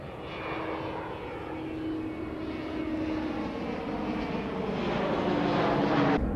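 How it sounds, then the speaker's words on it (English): A jet aircraft departs from a runway in a steady, broadband engine roar that swells slowly over several seconds and is loudest near the end, with no talk over it. "you're waiting for this jet to depart"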